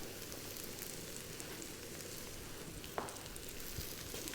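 Garlic sizzling steadily in a hot pan while Thai cashew chicken is cooked, a continuous broadband frying hiss with a small clink near the end.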